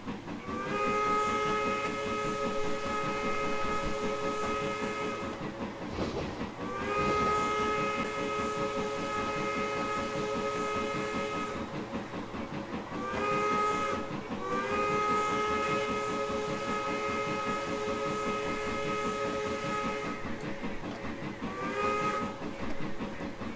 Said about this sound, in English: It is a really nice sounding whistle for what it is.